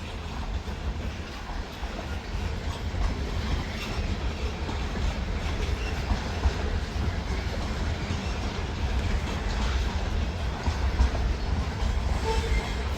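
A train on rails rumbles steadily and loudly throughout, a continuous dense mechanical roar with faint clicking and no voices.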